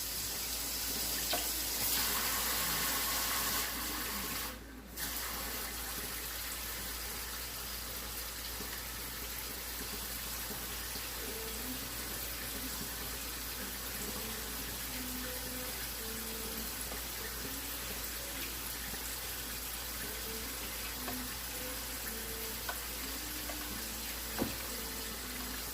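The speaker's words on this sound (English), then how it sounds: "And some water, just enough to make a paste." Water running from a kitchen tap into flour for tortilla paste, a steady faint stream with a brief louder burst near the start, continuing evenly throughout with no talk.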